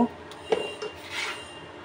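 A knife chops a fried egg on a pan over an induction cooktop, producing a few quiet metallic scrapes and taps in a short burst.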